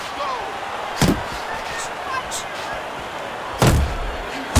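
Punches landing in a Creed boxing video game, Adonis Creed against Adam Wheeler: two sharp, loud thwacks about two and a half seconds apart, heard over steady crowd noise and commentary.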